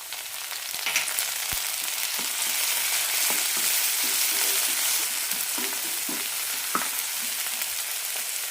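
Tomatoes drop into frying masala in a pan for an egg curry, setting off a steady close sizzle with scraping stirs and light clinks throughout, no voices.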